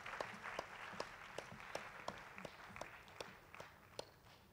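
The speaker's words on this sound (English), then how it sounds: "can we just not all give a big round of applause for all the contestants?" A small audience at a university student debate final in Tanzania applauds steadily, a faint, distant wash of clapping with a few sharper claps standing out.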